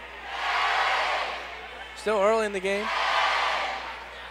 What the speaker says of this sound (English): You can hear this crowd still in this one